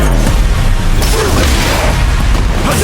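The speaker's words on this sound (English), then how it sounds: "Looks like they want to put a new spin on things with that fireball." A fireball special move in the Street Fighter fighting game gives a loud booming whoosh of impact, dense and continuous, with sharp bursts through a noisy arcade mix.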